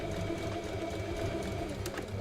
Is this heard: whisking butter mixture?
no